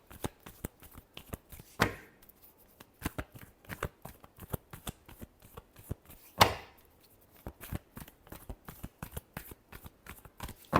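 Tarot cards being shuffled by hand, close and crisp, with rapid riffling flicks and two louder bridging flurries, no talk over it.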